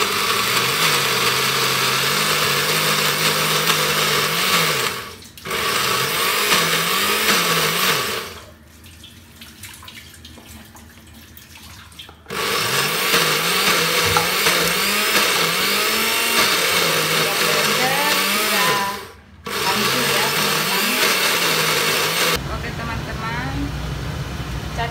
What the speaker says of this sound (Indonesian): Chutney pudinanya sudah siap di blender